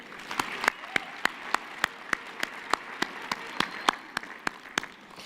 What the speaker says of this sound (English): I would like you all to just give also to them a hand of applause